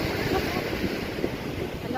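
Surf washing onto a beach on a day with rough seas, a steady broadband roar of waves mixed with wind buffeting the microphone, continuous and fairly close throughout.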